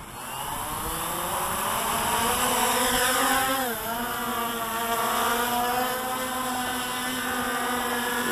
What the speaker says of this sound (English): listen to the strain those props put on. Sounds like a herd of bumblebees